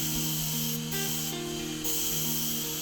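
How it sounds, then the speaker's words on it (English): A continuous hissing spray of a paint gun painting a race car, with a steady mechanical hum underneath, briefly pausing and resuming. "start to squirt some paint on"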